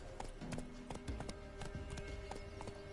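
Roach the horse gallops in The Witcher 3, hooves clip-clopping in a steady, fairly loud rhythm with a few sharp strikes over a constant game music and ambience bed.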